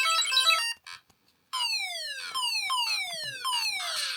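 Asteroids played on a tiny micro keychain console: thin electronic beeps, then a run of rapid, repeated falling-pitch zaps stacked in quick succession, loud and close with no talk.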